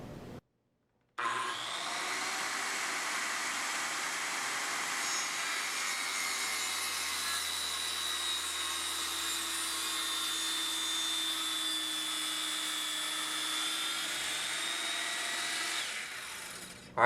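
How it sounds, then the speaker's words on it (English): Circular saw on an EZ Smart saw base making a slow plunge cut, one continuous loud, steady whining cut lasting about fifteen seconds, starting abruptly and stopping near the end, with no talking. "Pull the trigger and slowly plunge,"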